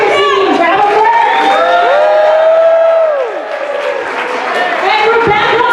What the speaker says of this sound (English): So let's give Mr. Daly a cheer.